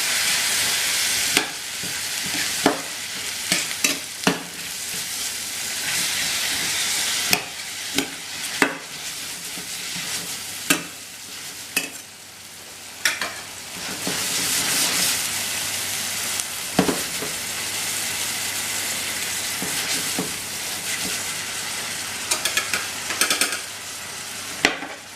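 Stock is poured into a hot pan of mushroom pasta, setting off a loud continuous sizzle and hiss, with repeated clattering stirs and scrapes of a utensil against the pan throughout.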